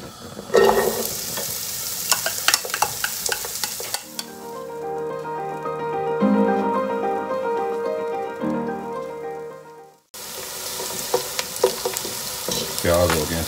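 Chopped onions hit hot oil in a pot for a tomato soup and sizzle loudly, the frying dropping to a quieter crackle under stirring and then surging back up with clattering spoon scrapes.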